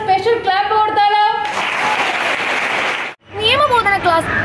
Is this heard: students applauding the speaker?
yes